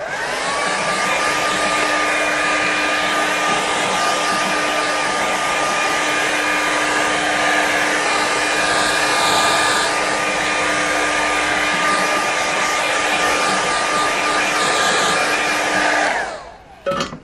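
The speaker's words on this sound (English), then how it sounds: "oh, let's grab the air dryer." A hair dryer blows steadily and loudly for about sixteen seconds over a watercolour painting, a constant whirring rush with a fixed motor whine, then cuts off abruptly.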